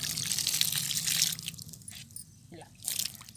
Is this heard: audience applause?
no